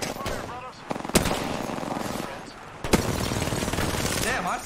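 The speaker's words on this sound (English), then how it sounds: "This guy's shooting me in the back." Automatic gunfire in Apex Legends, sustained rattling bursts with two sharp louder shots standing out, close and loud throughout.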